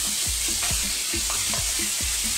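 Peppers sizzle in a pan over fairly high heat with a steady broadband hiss, while repeated scraping stir strokes cut through in a loose rhythm, close and continuous throughout.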